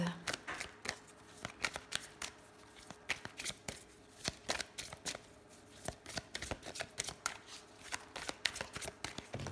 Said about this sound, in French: Je vais tirer quelques cartes rapidement de mon oracle du messager.